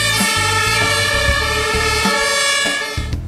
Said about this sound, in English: Hence, they are especially glad about the extra two-tone air horns or Martin horns, which are also installed on the new vehicles.